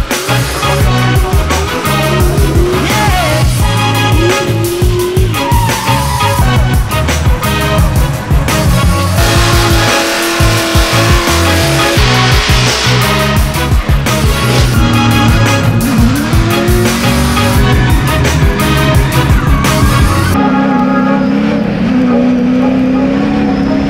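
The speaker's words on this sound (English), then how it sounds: "Sending it out there, flat out, round the bends, throwing some donuts outside the house is just incredible" Drift car spinning donuts at the Goodwood Festival of Speed: loud, sustained revving engine with rising and falling pitch and screeching tyres for about twenty seconds, then a quieter tail.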